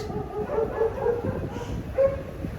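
A dog barks and yips in short bursts amid a busy indoor household background, the calls moderately loud and scattered across a few seconds.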